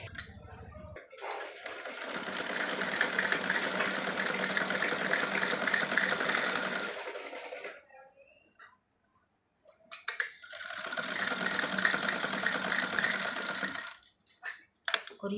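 Sewing machine stitching a half-inch seam on a salwar made from warm winter fabric, running in two long steady bursts with a brief pause between them, close and loud.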